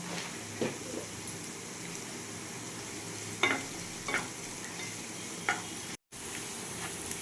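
Raisins and vegetables fry in a pan for semolina pulao, a faint constant sizzle punctuated by several separate spatula scrapes and taps, with a brief dropout near the end and no speech.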